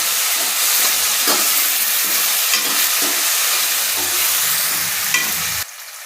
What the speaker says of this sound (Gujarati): કટ કરેલા બટેટા, કટ કરેલું ટમેટું, કટ કરેલું મરચું, એ બધું આપણે મિક્સ કરી લેશું.